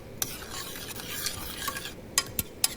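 Butter, onions and garlic being stirred in a pot for a Cajun shrimp boil, a steady scraping stir over a soft sizzle, with a few sharp spoon knocks against the pan near the end.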